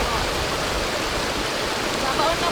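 River current flowing outdoors in Aklan, a steady rushing wash of water, fairly loud and constant throughout, with a voice faintly present underneath.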